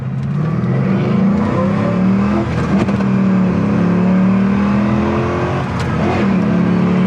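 A 2002 Pontiac Firebird Formula Firehawk V8 revs hard under acceleration, its loud, steady engine note climbing before a brief dip at a gear shift near 5,000 RPM, then pulling on again, heard from inside the car.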